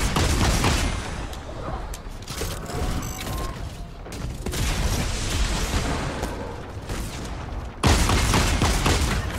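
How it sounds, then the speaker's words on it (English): Repeated rocket fire in Fortnite, a dense run of launches and blasts with mechanical clatter, loud and continuous, surging again near the end. "Why is he firing so many rockets at once?"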